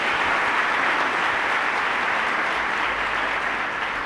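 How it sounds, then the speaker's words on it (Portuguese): Steady, dense applause from a large audience at a Catholic preaching event, loud and close throughout with no voices over it. "Pode aplaudir"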